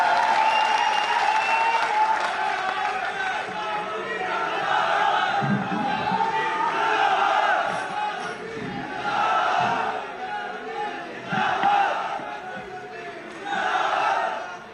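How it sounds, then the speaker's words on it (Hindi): Applause from a student rally audience marking a national student organization's foundation day in Bikaner, welcoming a minister to the stage; steady clapping swells and dips in waves over about fifteen seconds with crowd cheering mixed in, no talk. "तालियों के साथ वेलकम करें"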